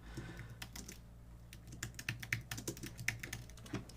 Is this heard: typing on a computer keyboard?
yes